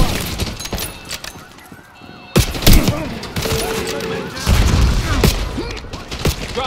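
Gunfire in a Call of Duty: Black Ops 6 campaign firefight: sharp, loud bursts and booms crowd a busy battle mix, with heavy blasts clustered after the midpoint and shouted voices amid the chaos.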